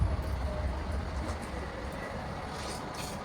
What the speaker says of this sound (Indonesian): menggunakan kereta cepat yang berwarna merah sono